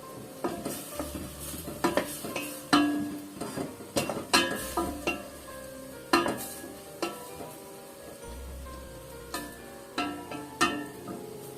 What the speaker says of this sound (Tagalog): Medyo gisa lang natin siya.